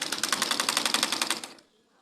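A manual sewing machine stitches an elastic band in a rapid, evenly spaced run of mechanical clatter lasting about a second and a half before stopping abruptly.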